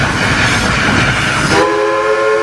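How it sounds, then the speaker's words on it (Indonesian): A toy train gives a rumbling, clattering run, then sounds a steady, horn-like whistle tone for the last second, loud and close. "Yang ini ada kereta api."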